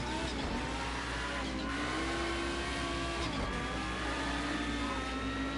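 Ford Mustang race car in Project CARS 2 holds a loud, steady engine drone with rising and falling pitch as it accelerates and shifts, along with faint tire noise throughout.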